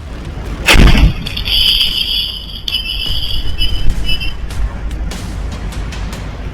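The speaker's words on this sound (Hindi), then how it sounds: "हाथों में जलती पेट्रोल की बोतल और जोरदार धमाके की आवाज" A sudden loud petrol bomb blast bursts out at night outside an office in Ranchi, followed by crackling and hissing noise and scattered sharp knocks fading over several seconds.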